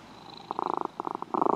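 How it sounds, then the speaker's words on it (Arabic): A cat purrs close up in short rhythmic bursts of rough, pulsing vibration, separated by brief pauses and growing stronger toward the end. "هذا قط."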